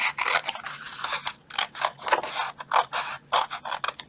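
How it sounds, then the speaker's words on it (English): Scissors snipping through paper while trimming a bleach-wipes box, a run of short crisp cuts in an uneven rhythm, close and fairly quiet with no talking. "scissors."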